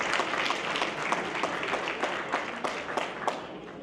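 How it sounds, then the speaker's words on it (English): Applause from guests at a Muslim American Chamber of Commerce dinner honoring community leaders, a steady burst of many hands clapping that fills the banquet room for a few seconds and then begins to fade. "Mr. Naeem Sakia, please give a round of applause for Naeem Sakia's hard work."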